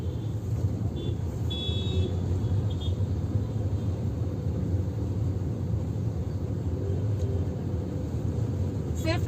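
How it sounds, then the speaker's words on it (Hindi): A car cruising in third gear on the accelerator alone through night city traffic, its steady engine rumble and road noise continuous and close throughout, with no pauses. "थर्ड गियर पे सिर्फ एक्सेलरेटर पे हम चल रहे हैं"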